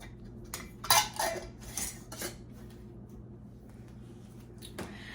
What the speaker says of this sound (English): Fill your jar up.